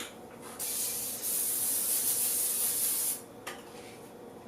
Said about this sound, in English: prepare your baking pan with a little non-stick cooking spray